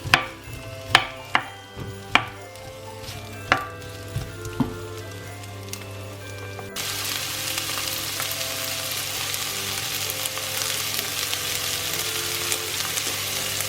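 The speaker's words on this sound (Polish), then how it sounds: "I na gorący olej wrzucam cebulę. Cebulkę chwilę podsmażam." Onion tossed into hot oil gives a few sharp clatters, then a steady, loud, even sizzle of frying that runs unbroken to the end, for a Kashubian-style herring salad.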